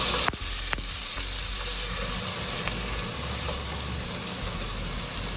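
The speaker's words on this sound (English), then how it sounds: "Add 2 tablespoons of ginger garlic paste and saute it well." Ginger garlic paste and onion gravy sauté in hot oil for a chicken curry, giving a loud, continuous sizzling hiss after two sharp utensil clicks at the start.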